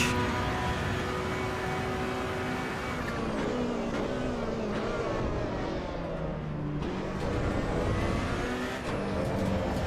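Race car engines at Imola in Assetto Corsa EVO rev hard and continuously, with shifting pitch as gears change, all loud and close throughout.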